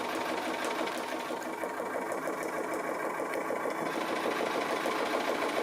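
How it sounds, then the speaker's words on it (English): A sewing machine runs steadily and evenly, stitching along the edge of the beard on a conical Santa Christmas craft. The fast mechanical patter continues without a break and without talk. "I'm just stitching on the beard"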